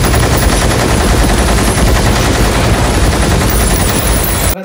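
Machine gun fire from the Animal movie trailer, a loud, dense and continuous burst of rapid shots filling the whole clip before cutting off abruptly.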